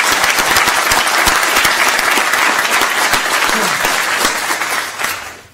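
Sustained, loud applause from an audience at a school board meeting, honoring a retiring chief after 41 years of service, continuing steadily before fading out at the end.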